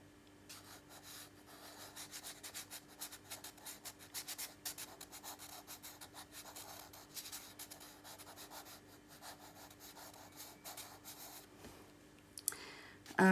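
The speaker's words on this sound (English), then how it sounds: "laying down colors, running green lines, scribbles and things all over" Tinted charcoal scribbles green lines across paper, a faint dry scratching and rubbing in quick irregular strokes that keeps going for several seconds.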